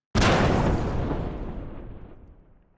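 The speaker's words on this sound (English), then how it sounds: "like this explosion sound" A single deep explosion, a game sound effect, bursts suddenly and loud, then rumbles and fades out over a couple of seconds with nothing else heard.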